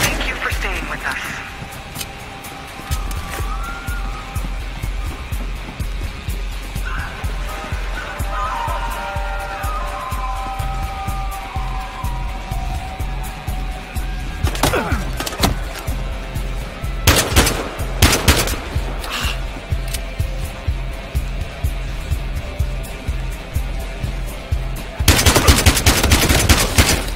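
Sustained automatic gunfire fills a Battlefield Hardline hotel shootout, dense rattling bursts running throughout with a few sharp louder cracks and a heavier intense volley near the end.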